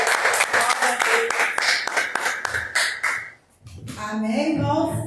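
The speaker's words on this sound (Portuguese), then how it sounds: "Receba a pastora Alice com as palmas do nosso Jesus." A church congregation at a service claps in rhythmic, fairly close hand claps for about three seconds, then a pause and speaking voices take over.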